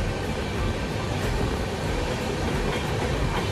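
The Poorva Express passenger train, Kolkata to New Delhi, rumbles along the rails past Asansol with a dense, steady roar and faint clickety-clack, heard from inside the carriage with no talk.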